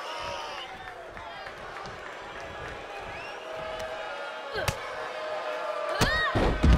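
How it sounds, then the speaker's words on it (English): A wrestling drop kick in a video game match with Bayley: crowd murmur under a commentator's voice, then sharp slam impacts near the end. "Drop kick hits hard"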